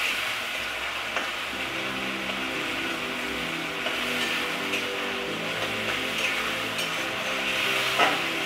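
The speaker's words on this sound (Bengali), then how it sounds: "আমি আদা রসুন পেস্টটা দিয়ে দিচ্ছি, এটাকে একটু নেড়ে নিচ্ছি।" Ginger garlic paste is stirred into fried onions in a pan for a potato dum curry. A continuous crackling fry sizzle runs throughout, with occasional wooden scraping and stirring knocks close by.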